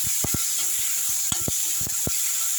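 Chopped onions and tomatoes sautéing in a pan for a Tamil-style buttermilk curry, giving a steady, even sizzling hiss with a few scattered light clicks from a spoon against the pan.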